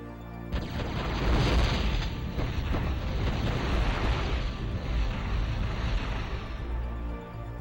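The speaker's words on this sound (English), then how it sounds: "There's the explosive shotgun again." Heavy booming blasts from an explosive shotgun in a video game, loud and continuous, rolling together into a dense roar for most of the stretch with no talking over it.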